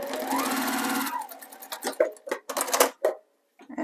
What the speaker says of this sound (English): I'm actually just going to sew them together kind of wonky like this.